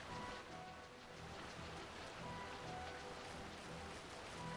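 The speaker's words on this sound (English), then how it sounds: "Okay, cool, yeah, it's raining now." Continuous steady rain in the video game Final Fantasy XII, a dense hiss of falling drops with no talking, even in loudness throughout.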